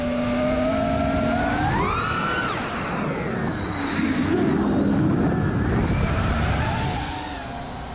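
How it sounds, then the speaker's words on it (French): A tractor passes by on a rural track, its broad engine rumble swelling and then fading over several seconds, while a rising, whining motor tone is heard near the start. "On va laisser passer le tracteur."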